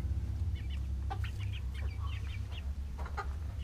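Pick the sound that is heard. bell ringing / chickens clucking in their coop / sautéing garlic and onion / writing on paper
chickens clucking in their coop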